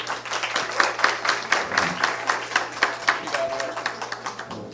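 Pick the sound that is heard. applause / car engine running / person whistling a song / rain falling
applause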